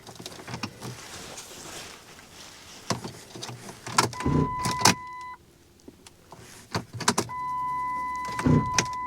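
A Chevy TrailBlazer with a 3-cylinder turbo and a bad starter fails to start. It makes a run of short cranking bursts, clicks and whirring tones, some close and loud, with quieter gaps between attempts.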